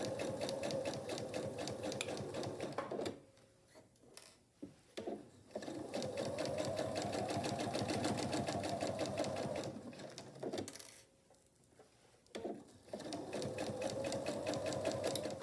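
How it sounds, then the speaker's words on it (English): A sewing machine stitches a fabric wine cozy in fast, even bursts of rapid clatter, pausing briefly twice between runs, close and fairly quiet. "I'll secure my stitches here."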